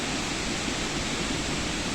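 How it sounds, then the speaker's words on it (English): Noh-Kawang Waterfall in Meghalaya, northeast India, gives off a dense, steady roar of rushing water, broad and unbroken, heard from a distance with no voices over it. "let me show you the beautiful view of the Noh-Kawang Waterfall"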